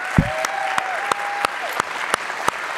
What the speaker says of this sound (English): Another round of applause for Mr. Clyburn.